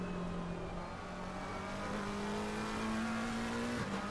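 A BMW race car in Assetto Corsa Competizione, heard from the bonnet cam at the Nordschleife, holds a loud, steady engine drone whose pitch climbs slowly as it accelerates, with no voices.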